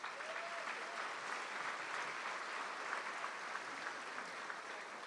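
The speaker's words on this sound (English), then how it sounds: "Let's give a hand clap for the St. Louis Symphony." A luncheon audience claps for the St. Louis Symphony, steady applause from many hands that stays at an even level for about five seconds and sounds somewhat distant.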